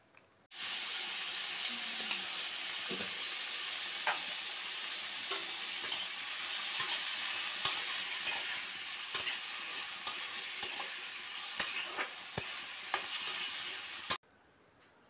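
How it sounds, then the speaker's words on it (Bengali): Potato curry frying in a pan tempered with nigella seeds and green chili, a constant close sizzle with occasional sharp clicks and scrapes of stirring, no voices. "এদিকে কালো জিরে কাঁচা লঙ্কা ফোড়ন দিয়েই হচ্ছে আলুর তরকারিটা"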